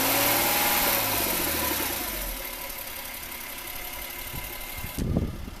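A Jaguar XJ40's 3.2-litre inline six-cylinder engine runs close by with a loud, steady rumbling drone that eases slightly over a few seconds, ending with a short thump.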